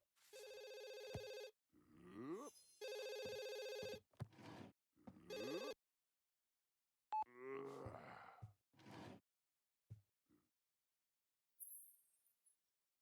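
A telephone rings in The Sims 3 Pets on Xbox 360. Several electronic ring bursts play at moderate volume, followed by brief game sound effects and short vocal grunts, with no talking.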